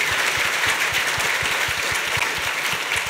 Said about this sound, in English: I'd just like to, frankly, just give them a round of applause for that